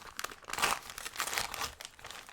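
Material being ripped and torn by hand, heard as a few close, crinkly, papery tearing bursts with short pauses between them.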